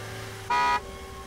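One short car horn honk sounds at moderate distance, a steady toot lasting about a quarter second over quiet outdoor background.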